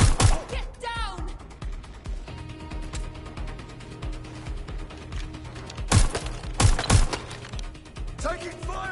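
Video game gunfire crackles in close bursts and sustained volleys over a busy battle din, with a few louder blasts, mechanical clatter and shouted voices in the mix.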